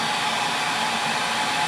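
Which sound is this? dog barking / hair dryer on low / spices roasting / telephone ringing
hair dryer on low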